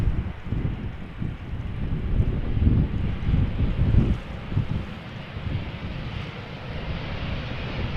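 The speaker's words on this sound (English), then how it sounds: "German Airways flying for KLM, Embraer 190 arriving from Bristol." A German Airways Embraer 190 flying for KLM, arriving from Bristol at Amsterdam Schiphol, rumbles in a steady, broad roar that swells and eases under gusty wind noise.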